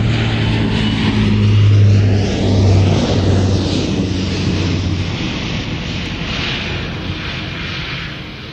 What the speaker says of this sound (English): It's the C-27J Spartan from the Italian Air Force.